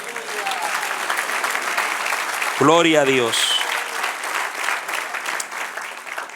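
Congregation applauding steadily through a church service, with a voice briefly calling out over the clapping midway.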